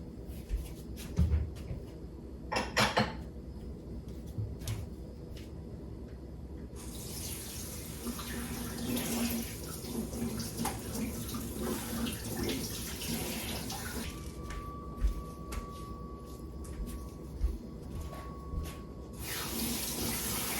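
Tap water runs into a sink while garden blueberries are rinsed, a continuous close gush with occasional knocks and handling clatter, growing louder and fuller partway through.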